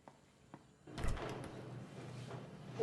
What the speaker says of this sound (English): Vera, please close the door